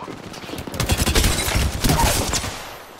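Rapid automatic gunfire from an enemy team in Apex Legends rattles in loud, close bursts of many shots, swelling through the middle and tapering off toward the end.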